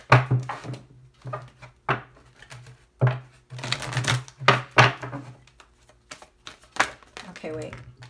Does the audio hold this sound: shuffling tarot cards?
yes